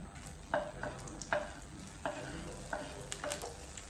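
Onions sauté in a little hot oil in a pan with a soft steady sizzle, broken by about five regular scraping stirs of a spatula.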